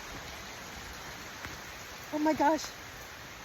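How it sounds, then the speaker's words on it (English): Large raindrops pour down outdoors near a chicken coop on a homestead, making a steady soft hiss of rain. A person briefly exclaims toward the end. "These are huge raindrops."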